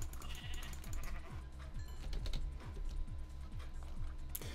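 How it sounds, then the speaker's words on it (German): Minecraft sheep bleat in a short series of wavering calls, set against a steady low game hum and light computer keyboard clicking, with no talking. "da sind schon wieder Schafe"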